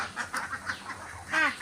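Domestic ducks give a quick run of short, nasal quacks at feeding time, fairly faint and close together, with a louder call at the end.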